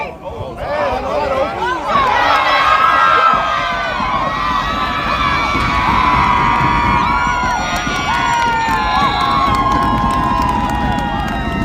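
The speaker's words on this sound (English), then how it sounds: "if you saw that and hear the roar of the crowd, that is the Colorado side finally getting something to cheer about" At a youth football tournament, a crowd roars and cheers a touchdown by the Colorado side. Shouts and high children's voices swell into a loud, sustained cheer that stays full and dense throughout, with babble underneath.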